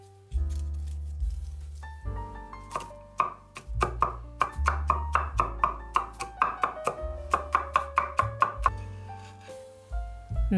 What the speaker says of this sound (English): Chop the garlic cloves.